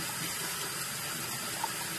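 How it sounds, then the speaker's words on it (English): A spoon is rinsed under a running kitchen tap in a home kitchen, with a steady, close stream of water hissing evenly throughout and no voices. "I'm going to rinse my spoon off so I don't make a really big mess"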